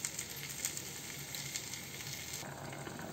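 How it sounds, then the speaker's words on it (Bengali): New potatoes and eggs fry together in a pan, a steady close sizzle that runs throughout with small crackles and no talk, softening slightly near the end. "আলুটা কিন্তু সিদ্ধ করিনি, এটা হচ্ছে নতুন আলু, জাস্ট এই ডিমের সাথেই ভেজে নিচ্ছি।"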